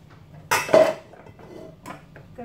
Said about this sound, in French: je vais chercher une petite casserole.